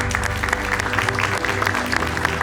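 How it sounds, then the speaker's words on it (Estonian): Audience applause for the winners of a young carpenters' competition, a dense run of clapping with distinct individual claps standing out, heard together with a steady tonal music bed and some crowd voices underneath. "suur aplaus"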